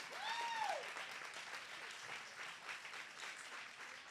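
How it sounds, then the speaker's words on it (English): Soft, distant applause from a showcase audience rolls on steadily, quiet and even throughout, with a brief whistle near the start. "Let's give them a big round of applause."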